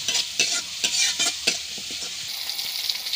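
Masala for a bottle gourd curry is stirred and fried in a pan. A spoon scrapes the pan in a quick, regular rhythm over a bright, constant sizzle, loud and close, with no voices.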